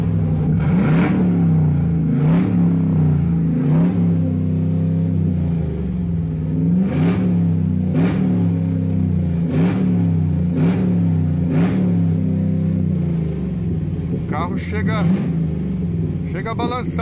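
A Chevrolet Camaro V8 with a sport exhaust revs repeatedly in a workshop, each loud throttle blip rising and falling in a steady rhythm over a deep idle rumble, close to the microphone.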